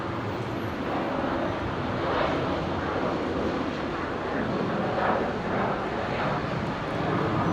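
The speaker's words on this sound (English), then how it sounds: "Virgin 334 heading off to Melbourne" A Virgin airliner taking off from the runway at Brisbane International roars with a broad, steady engine rumble over several seconds, moderately distant, with some wind noise and no talking.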